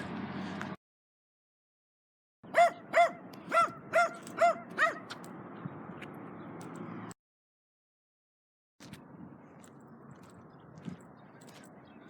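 Several dogs bark in a short burst of about six sharp, evenly spaced barks at moderate distance near an old RV campground, set against steady outdoor background noise with no talking.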